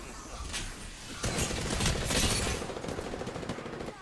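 Rapid hip-fired gunfire from a heavy weapon in the shooter game Apex Legends, a dense continuous burst that swells louder midway and keeps rattling at steady intensity without talk.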